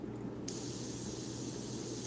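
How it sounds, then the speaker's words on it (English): Iwata CM-SB airbrush spraying Createx Illustration Colors onto Claybord, a steady close hiss that starts about half a second in and runs unbroken to the end, with no voices. "I'm going to spray it and treat it like it's got"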